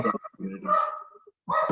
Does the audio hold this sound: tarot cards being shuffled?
no